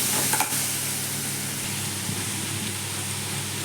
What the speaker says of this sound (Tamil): முருங்கைக்காவும் போட்டு நல்லா வதக்கணும்